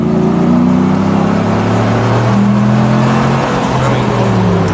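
Engine of a 2017 Ram 1500 pickup with a cold air intake and aftermarket exhaust, a loud, steady low rumble while cruising, with pitch shifting slightly as it pulls, heard from inside the cab.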